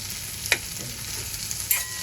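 Red pumpkin bhaji with sesame seeds and coriander sautéing in a pan, a soft steady sizzle with two brief scraping stirs of the spoon, close and fairly quiet with no talking.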